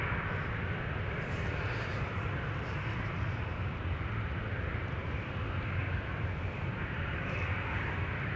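A Cathay Pacific Airbus A350-1000 at Amsterdam Schiphol on a foggy day, heard as a steady, distant broadband jet roar with a low rumble, continuous and even throughout, with no talking.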